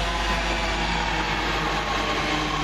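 A London Midland passenger train rumbles past on the rails at Lea Hall station in a steady, loud, broadband roar with no breaks, close by, with no voices.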